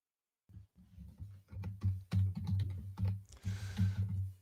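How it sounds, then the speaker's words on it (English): Rapid keystrokes on a computer keyboard entering a quiz answer, a steady close run of clicky taps after a brief silence, with no talk. "You got to type your answer."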